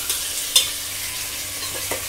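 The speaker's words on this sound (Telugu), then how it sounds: "సో ఈ ముక్కలకంతా ఆయిల్ పట్టేలాగా అలా కలుపుకోవాలి మెల్లగా." Fish pieces being stirred in hot oil in a pan for Telangana fish curry, a steady soft sizzle with a few faint scraping knocks, close by, no talking.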